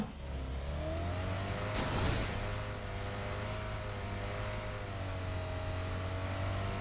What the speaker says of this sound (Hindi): और सीधे गाड़ी निकाल के चल पड़े जोन की तरफ